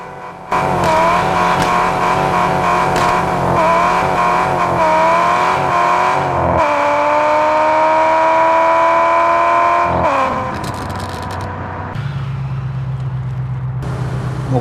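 A car engine in the Car Parking Multiplayer video game revs hard while drifting in rear-wheel drive mode: a loud, continuous, whining roar that swings in pitch, dips briefly near the end, then settles to a lower, steadier drone.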